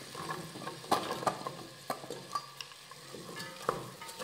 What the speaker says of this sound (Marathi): आणि हे परतून घेऊयात।